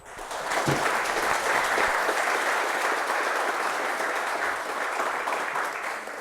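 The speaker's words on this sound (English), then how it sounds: "give her a warm applause" An audience gives warm applause for a member of Parliament, Karen Melchior, as she walks onto a stage: dense, loud, sustained clapping from a crowd, steady throughout with no voices over it.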